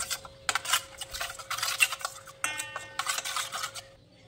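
Spices and mustard oil are stirred together in a bowl with a spoon, giving a quick run of scraping, clicking strokes that come in short bursts with brief pauses, close and steady, with no voices.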